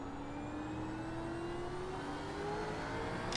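Gen 3 V8 Supercar engine in iRacing at Daytona's road course winds up in one long, smooth climb through the revs, a thin rising whine over a low rumble, steady and fairly quiet with no voices.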